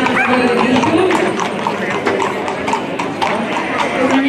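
Hooves of horses pulling a carriage in a Sant Antoni Abat festival parade in Olot clip-clop steadily on the street, heard beneath continuous talk from an announcer.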